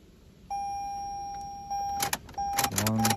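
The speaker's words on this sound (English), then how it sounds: "quickly turn the ignition on, and back off 5 times till the security light is out" A 2018 Toyota Camry's ignition switched on and off repeatedly, bringing steady dashboard chimes that stop and restart, with soft clicks and a short whir near the end, close and clear with no talking.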